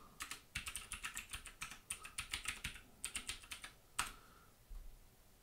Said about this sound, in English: Enter our username and password